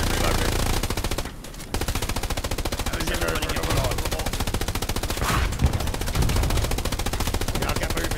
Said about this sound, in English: I'll get moving while I shoot